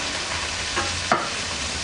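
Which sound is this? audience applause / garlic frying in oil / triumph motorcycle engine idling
garlic frying in oil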